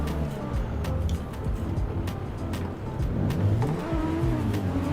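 Car drifting in the Assetto Corsa racing game, with a steady revving engine, rising and falling tones and tire squeal, loud and continuous.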